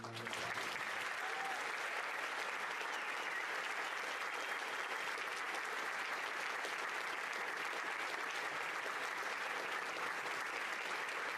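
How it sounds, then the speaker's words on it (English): A round of applause for 6th grade graduates at a school promotion ceremony, a dense steady clapping from a large audience that holds strong for about eleven seconds. "Let's give them one round of applause."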